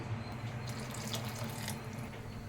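Water runs steadily into a pan of bitter gourd theeyal curry, a continuous splashing pour heard up close and fairly quiet.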